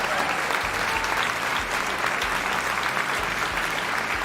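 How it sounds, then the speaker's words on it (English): An audience at a talent show finale gives a round of applause, dense and steady clapping that holds loud throughout the clip. "let's give all of the participants one last round of applause."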